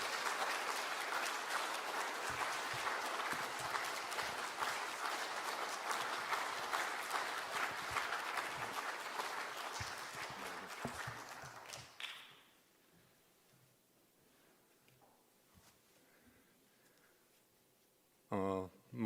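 Vigorous applause from a church congregation welcoming a pastor to the front for a sermon, loud and sustained for about twelve seconds before fading into a quiet hall, with a brief burst of clapping near the end.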